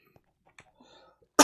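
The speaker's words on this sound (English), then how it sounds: "Coughing all over you." A single sharp cough bursts out at the very end, close and loud, after a stretch of near silence with a few faint clicks and murmurs.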